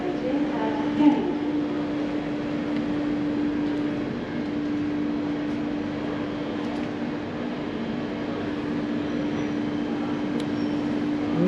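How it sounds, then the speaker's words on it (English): A London Underground Northern Line train at Edgware station, a steady mechanical hum with a sustained tone and broad rumble filling the whole stretch at moderate level, with a faint voice in the background. "This is the Northern Line train via Charing Cross,"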